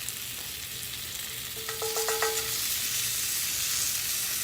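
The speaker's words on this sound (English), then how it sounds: "add the chicken back into the pan. Woo! Look at that sizzle, sizzle." Chicken wings sizzling in a cast iron pan, a constant bright crackling hiss from close by that swells slightly as more pieces are added, with a brief clink partway through.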